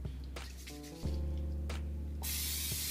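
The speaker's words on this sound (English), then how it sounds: "I'm gonna use some non-stick spray on my pan" A hiss of non-stick cooking spray onto a pan bursts out near the end, following a few clicks and a low hum, loud and close.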